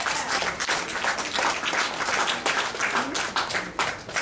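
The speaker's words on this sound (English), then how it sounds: "Please give them all a big round of applause." An audience at Bustamante Hospital for Children applauds the renovation team, with dense, continuous clapping that stays loud and steady throughout, and a voice faintly audible underneath.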